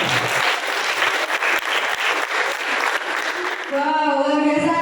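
Loud, sustained applause from an audience after a performance at a Javanese traditional wedding ceremony, steady clapping that thins near the end as a voice begins speaking over it.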